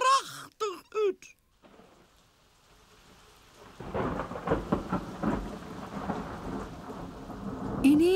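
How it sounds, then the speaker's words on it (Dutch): After a few brief squeaky cartoon-like sounds and a quiet pause, rain begins to fall, building midway into a dense, steady patter with a low rumble that continues to the end. "Ineen begint het te regenen."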